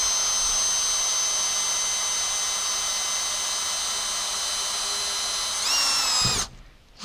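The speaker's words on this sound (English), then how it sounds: "I'm going to drill this." A power drill fitted with a small bit bores a hole, giving a loud, steady whine for about six seconds before it winds down and cuts out.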